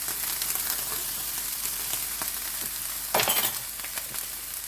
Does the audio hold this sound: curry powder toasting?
yes